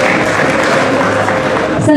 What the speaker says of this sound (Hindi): और सभी एक दूसरे के लिए तालियां बजाते रहेंगे।